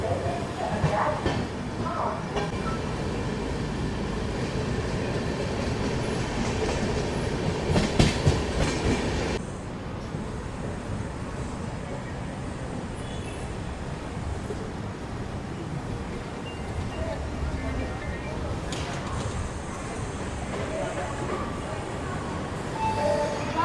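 The Durg Nizamuddin Humsafar Express runs along, heard from inside with a steady low rumble and rhythmic clickety-clack of wheels over rail joints, loud and continuous, with a brief sharper noise midway.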